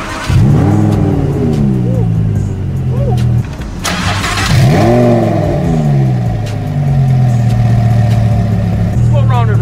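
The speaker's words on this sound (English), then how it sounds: "This car, it sounds crazy, so we probably should just give it a quick startup." Twin-turbo 1000 HP Lamborghini engine starting up and revving on a New York City street, loud close roaring blips that rise and fall repeatedly and then settle into a heavy idle, with someone talking over it.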